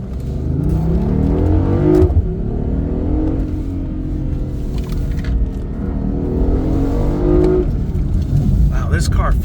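A hybrid supercar with a suspected faulty BMW part accelerates hard, its engine rising through loud, continuous revving pulls with brief drops between gears, heard from inside the cabin.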